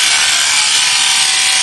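A Liveryman Black Beauty horse clipper runs while clipping, giving a loud, continuous high buzzing whir that stays steady throughout with no pauses.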